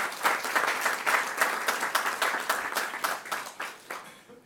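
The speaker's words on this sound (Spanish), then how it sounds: "un aplauso para Julián por estar con nosotros." An audience applauds an author at a book presentation, rhythmic clapping that swells briefly then fades out toward the end, fairly close and without talk.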